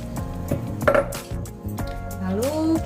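A utensil clinks and scrapes against a pot while rice and coconut milk are stirred for Malaysian nasi lemak, giving a few sharp metallic taps up close, with a voice speaking over them.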